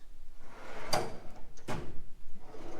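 A metal drawer slides open on a mechanic's tool box stocked with automotive tools: two separate sliding rasps about a second apart, close and fairly quiet over faint room noise.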